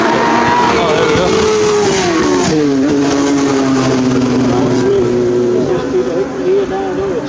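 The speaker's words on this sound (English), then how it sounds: "Sounds like multiple bikes coming through." Several superbikes at the 2019 Isle of Man TT scream past in succession, engine pitch sweeping down as they go by and fading into the distance, with a commentator speaking over them throughout.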